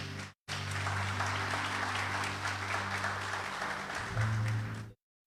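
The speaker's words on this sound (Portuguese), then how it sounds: "vamos aplaudir Jesus" A church congregation claps for Jesus during a sermon, steady applause after a short break, with a low organ or keyboard drone sounding beneath the clapping before it cuts off.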